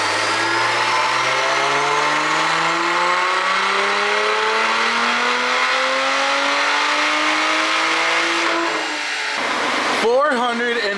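A tuned Lotus Emira with turbo and supercharger revs hard on a dyno, the engine pitch climbing steadily in one long loud pull before it cuts off, followed by a brief sweep of rising and falling revs.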